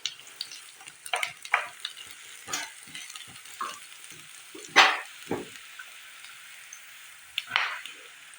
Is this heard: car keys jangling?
no